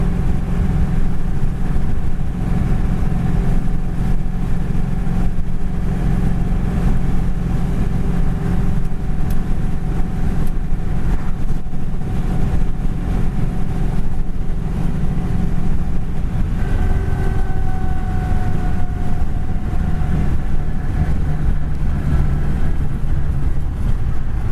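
A 1938 Ford Tudor cruises down the road, its engine making a loud, steady drone with road rumble running through the whole stretch. The tone shifts slightly near the end.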